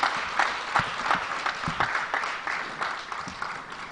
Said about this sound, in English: Shall we have a presidential applause for our special guest of honor